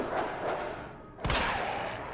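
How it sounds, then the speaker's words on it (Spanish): Gunshots fired at dogs in the Resident Evil 2 Remake video game: a dull shot early, then a sharp loud blast about midway that rings out and fades. "Aguantan tres balazos"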